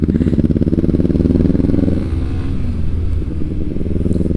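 A Kawasaki ER6N twin-cylinder motorcycle with an aftermarket exhaust rumbles loud and close with a deep, throbbing idle, blipping briefly before settling back to a steady lumpy beat.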